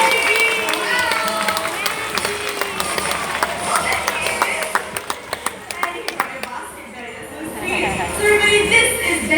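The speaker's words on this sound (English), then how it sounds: "let's all applaud as loud as we can to call Benji out." An audience applauds loudly to call a golden retriever onstage. Fast clapping from many hands rises to a sharp burst of individual claps and then swells again near the end.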